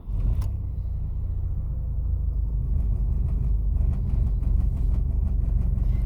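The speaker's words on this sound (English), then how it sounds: "You see how it initially idles and then doesn't?" A Rover 820 engine idles with a steady, close, low rumble throughout, and no voices are heard over it.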